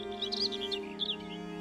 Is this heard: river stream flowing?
no